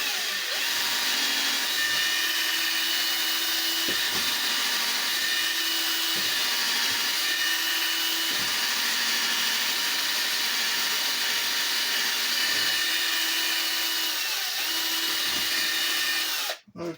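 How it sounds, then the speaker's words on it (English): A power drill whines steadily at close range for the whole stretch, its motor pitch dipping and recovering as the bit bites into wood, stopping abruptly at the end. "So we'll just drill."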